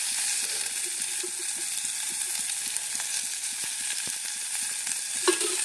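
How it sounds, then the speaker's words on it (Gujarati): Onion frying in oil for onion fritters gives off a steady close sizzle, with light stirring clicks and scrapes in the pan and a sharper clatter near the end. "પછી તેને તેલમાં કકડવા દેશું સારી રીતથી।"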